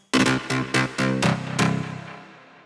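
A punchy melodic techno synth riff of several quick, bright notes, ending in a fluttering trill that rings out and fades.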